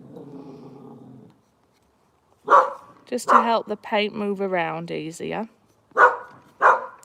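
A dog barks a few short, sharp times nearby outdoors, interleaved with a person talking.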